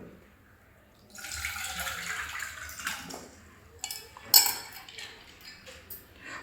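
Water is drained off soaked lentils for ragi masala dosa batter in a home kitchen. It runs and splashes close by for a few seconds, followed by a couple of sharp clinks of a metal vessel and some quieter trickling.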